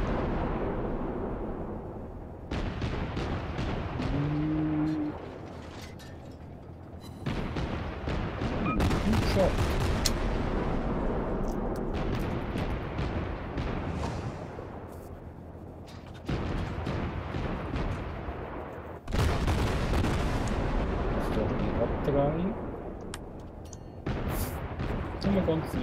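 A warship in World of Warships fires full broadsides, heavy booming salvos and rumbling blasts in several long bursts with brief quieter gaps, while a player talks over the action.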